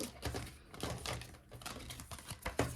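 Tarot cards being shuffled by hand, a dense run of rapid crisp riffling and slapping clicks close by, steady and moderately loud with small bursts, no talking.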